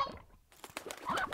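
An old rooster in the Slime Rancher video game gives soft, quick clucks in a short run of chirpy calls, fairly faint, with no voices.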